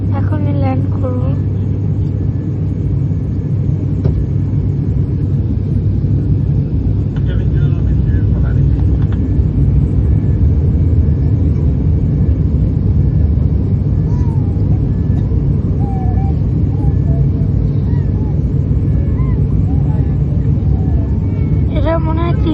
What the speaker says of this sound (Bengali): নিচে চলে এসছে একদম, এখনই ল্যান্ড করবো।